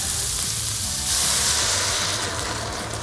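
Cider poured into a hot pan to deglaze a one-pot chicken and cider stew, giving a loud, steady hiss and sizzle close by that swells partway through and carries on without talk.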